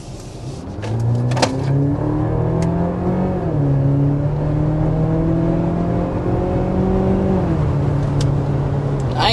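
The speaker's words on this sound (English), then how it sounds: "we want to go ahead and start with a hard acceleration so you can see what this plug-in hybrid is all about" A 2025 Mercedes GLC 350e plug-in hybrid SUV accelerates hard, its engine note climbing steadily through two clear upshifts, loud and continuous with no talking.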